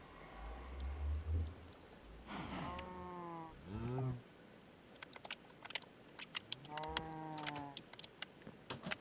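A cow in the Minecraft modpack Enigmatica 2 gives three low moos, two close together and one later, over quiet background clicks and crunching sounds.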